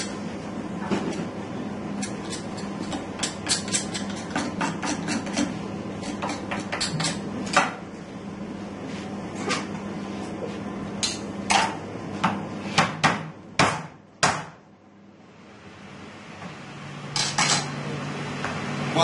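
A knife French-trims a rack of lamb in a Le Cordon Bleu butchery class, giving close, repeated scraping and clicking strokes against bone and board in uneven bursts, with a short quiet gap before the cutting resumes.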